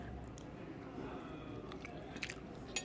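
Vegan chilli with squash and still-crunchy peppers is chewed close up, with a steady wet mastication under a faint background hiss and a couple of brief crisp bites near the end.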